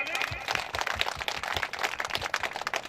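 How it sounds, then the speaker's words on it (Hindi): Audience at an RCM business celebration gathering in Katra Bazar, Gonda, Uttar Pradesh clapping to welcome new members, a dense, steady patter of many hands sustained throughout at moderate loudness. "इनके लिए जोरदार ताली।"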